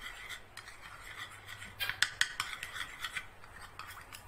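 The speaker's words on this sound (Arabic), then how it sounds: "وهنقلبهم كويس جدا." A spoon scrapes and clinks against a bowl while stirring cornflour into water, a steady run of light rasping strokes with a few sharper taps in the middle.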